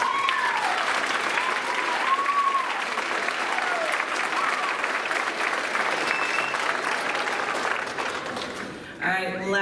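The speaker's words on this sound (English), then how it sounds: "could you please stand so we can give you a round of applause?" Audience applause at a school band spring concert, a dense sustained clapping from a crowd lasting several seconds, with voices mixed in underneath.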